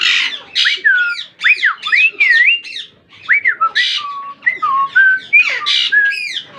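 A parrot whistles loudly and continuously, sliding through rising and falling tones mixed with short chirps and squawky notes, close to the listener.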